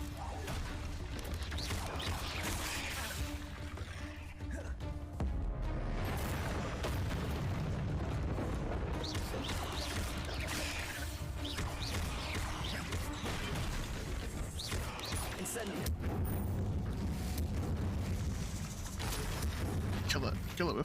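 Incendio fire spell cast in Hogwarts Legacy on PS5, a sustained roaring burst of flame with booming crackle, loud and continuous amid dense game sound effects, with a voice speaking over it.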